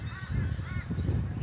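Crows caw in a short outdoor burst in Australia, the harsh calls repeating a few times at moderate distance over a steady low background rumble.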